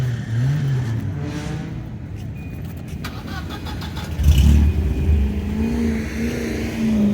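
A 1991 car at a cars-and-coffee show, its medium engine idling steadily and then revving up loudly around the midpoint before settling back to a rough idle, close by with no talk over it.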